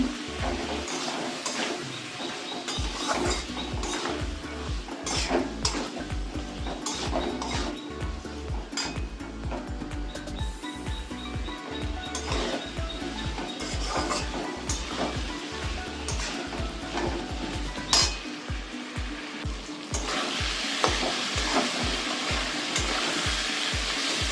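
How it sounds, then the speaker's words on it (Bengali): Salt, turmeric, ginger and cumin powder are stir-fried in a pan, with rhythmic low scraping and knocking strokes repeating steadily under a light sizzle. "নুন হলুদ আদা জিরে গুঁড়ো সব দিয়ে দিলাম এবার এর সঙ্গে কষিয়ে নেবো"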